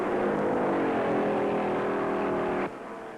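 1956 stock cars racing at the Darlington Southern 500, a loud sustained engine roar with a steady rising pitch as a car passes close, then cutting abruptly to a quieter background drone.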